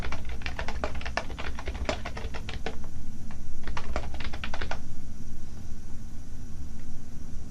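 Rapid, uneven keystrokes on a computer keyboard in a dense burst for about five seconds, then fading to a quiet hum with no talking.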